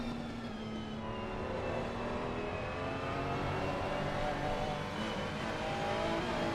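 Onboard whine of Ferrari race car engines in a console racing game at Monza, a steady high-pitched drone rising through gears, moderately quiet and continuous with no pauses.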